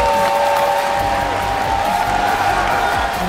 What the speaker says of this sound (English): Crowd is on their feet.